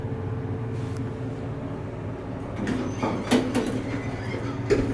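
A Dover traditional traction elevator in an office building hums steadily while running, then its doors slide and clatter with a few sharp knocks near the end, heard from inside the cab.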